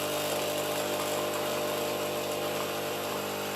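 A Senseo coffee machine running a vinegar descaling cycle, its pump droning with a steady, buzzing hum that stays constant throughout.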